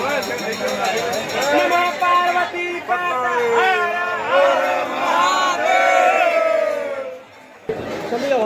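A dense crowd gathers at Harsiddhi Mata temple during aarti, loud overlapping voices and shouts filling the space continuously, with a brief dip near the end.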